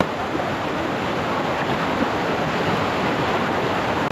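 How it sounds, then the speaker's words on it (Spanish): A second waterfall at a river pool, steady rushing water roaring evenly and close without pause, no voices. "Encontramos una segunda cascada."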